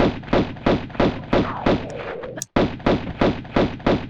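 Pistol shots ring out in Tomb Raider during a fight with lions in a colosseum, a steady rhythm of about a dozen loud, close shots broken by a brief pause near the middle.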